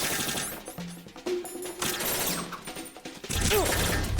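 Rapid gunfire bursts and mechanical clatter from the Metal Gear Solid 2 video game, dense and continuous, mixed with game sound effects.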